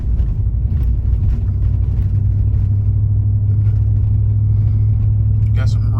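A 2019 Chevrolet Silverado engine runs on all eight cylinders while descending a steep hill, producing a steady low rumble with continuous road and cabin noise throughout.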